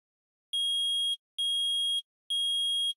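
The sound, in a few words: metal detector beeping, from video game Phoenix Wright: Ace Attorney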